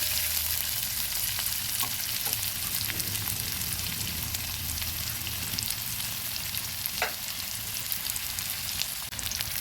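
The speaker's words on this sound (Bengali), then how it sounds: "ভালোভাবে লাল লাল করে পেঁয়াজগুলো ভেজে নেব" A steady, dense sizzle of onions frying in hot oil runs throughout, with occasional soft scraping from stirring and no voices.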